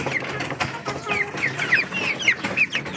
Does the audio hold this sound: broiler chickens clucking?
yes